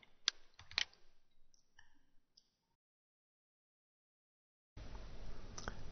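Sharp computer mouse clicks during a software installation on a quiet computer: a couple of crisp clicks early on, followed by silence and then a burst of broadband noise near the end.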